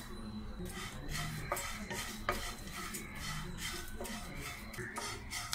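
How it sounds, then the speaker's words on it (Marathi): Poha (flattened rice) dry-roasting in a pan for chakli bhajani flour, with a spatula scraping and stirring in repeated strokes and metal clinks, close and steady without talk. "पोहे भाजूया।"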